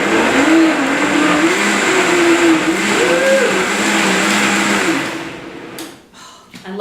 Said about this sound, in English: I love Vitamix. It goes so fast.